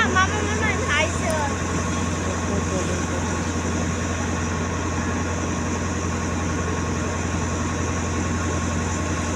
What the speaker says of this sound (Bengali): আমরা চলে এসেছি, এখন নৌকা স্লো হয়ে যাচ্ছে।